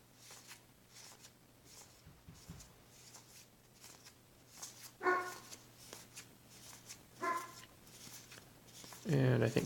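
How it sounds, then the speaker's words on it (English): A dog barks indoors a few times at moderate distance, sharp separate yaps with a louder burst at the end, while a person talks and cards shuffle nearby. "my dog thinks that somebody just knocked on the door"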